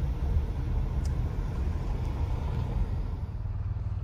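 A car cabin fills with a steady low road rumble and engine drone while driving along a highway near a wildfire.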